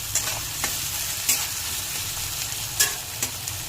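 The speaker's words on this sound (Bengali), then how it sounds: "এবার কুচি করে রাখা পেঁয়াজগুলো দিয়ে দেবো।" Chopped onions with salt and cumin fry in a pan for a chicken curry, giving a steady close sizzle broken by occasional sharp clinks and scrapes of stirring.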